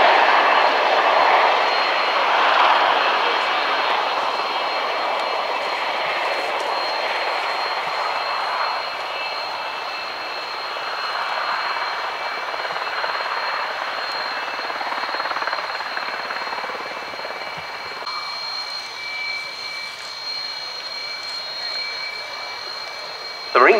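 A V-22 Osprey tiltrotor flies at the RIAT Fairford airshow, a steady broad rotor and engine roar holding fairly loud and constant for the whole stretch, with no talk.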